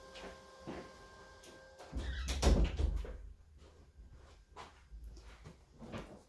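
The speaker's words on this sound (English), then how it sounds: "I'm going to run over there and shut my door" A door swings and shuts with a solid thump, followed by a few lighter knocks and rustles in a quiet room.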